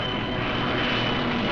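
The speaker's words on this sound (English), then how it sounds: "fighter planes from Gibraltar, fitted with extra fuel tanks, took off" Fighter planes fitted with extra fuel tanks take off from Gibraltar in 1944 wartime footage, a dense continuous engine roar filling the short stretch at steady loudness.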